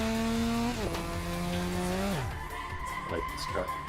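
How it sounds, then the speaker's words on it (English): Car tyres squeal through a drift on a touge mountain road in Assetto Corsa, a loud sustained engine drone sliding down in pitch as the car slides, followed by lower revving with short tyre chirps. "Speed drift."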